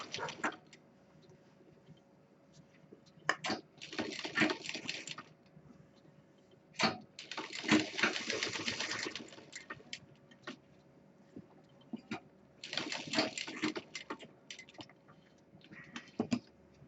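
A sewing machine stitches a homemade college bag in several short runs of rapid mechanical whirring, each a few seconds long, with quieter handling sounds between them at moderate, close range.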